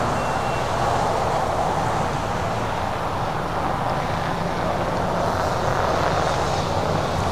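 An American Airlines Boeing 777-300ER jet airliner at LAX gives a steady, loud, broadband engine roar that holds evenly throughout with no pauses.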